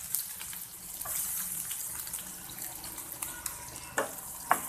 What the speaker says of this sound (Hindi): अब मैं इसमें हाफ कट की प्याज डालूंगी।